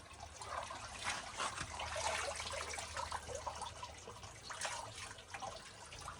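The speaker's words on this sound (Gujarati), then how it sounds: "અહીંયા પાણી ટપક્યા કરે છે" Water trickles and drips at a spring in hilly forest, a faint, continuous patter with soft irregular splashes heard close and alone.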